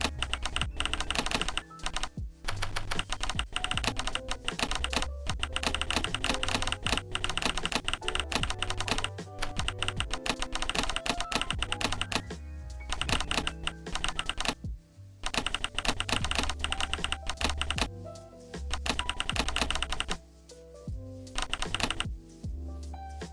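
Steady, rapid keystrokes on a computer keyboard clatter up close for a long stretch, with a few brief pauses between bursts of typing.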